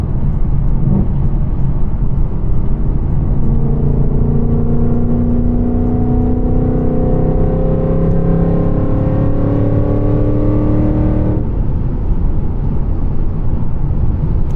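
Whipple-supercharged S650 Mustang with a six-speed manual pulling hard from inside the cabin, a loud engine drone climbing steadily in pitch through a long gear, then a sudden drop as the throttle lifts, with supercharger whine layered over it.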